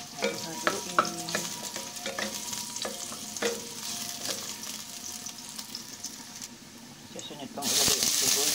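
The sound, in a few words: stirring food frying in a pan for soup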